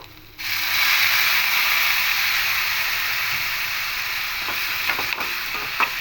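Boiled potatoes hit a hot pan with an abrupt burst of loud sizzling that holds steady, joined toward the end by a few scraping stirs of a spatula; no speech.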